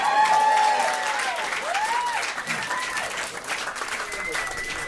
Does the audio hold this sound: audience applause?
yes